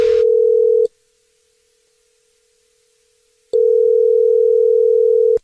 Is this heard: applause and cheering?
no